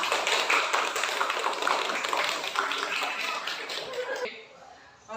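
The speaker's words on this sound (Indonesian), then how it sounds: "Kasih tepuk tangan untuk kelompok 1." Classroom group of students clapping for a presenting student group, a dense steady patter of many hands at moderate level that fades out near the end.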